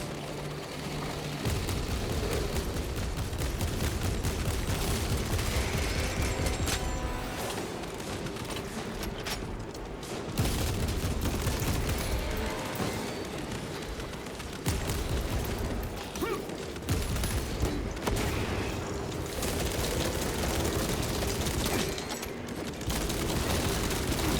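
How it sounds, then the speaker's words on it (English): Orbital guns fire in the video game Warhammer 40K: Space Marine 2, delivering a long run of loud, heavy booms and crackling bursts that rumble and overlap, with brief lulls between volleys. "There they are. The orbital guns."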